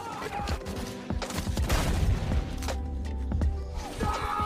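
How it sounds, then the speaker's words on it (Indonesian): A film gunfight erupts in bursts of overlapping gunshots and booms, with sharp cracks and impacts scattered over a few seconds of loud, chaotic exchange. "Lalu terjadilah baku tembak di antara mereka."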